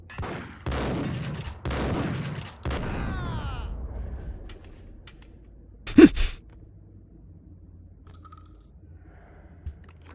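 A few quick gunshots from Max Payne fire in close bursts, each ringing out with a metallic echo tail, followed by quiet stretches broken by one sharp, loud shot and a faint later pop.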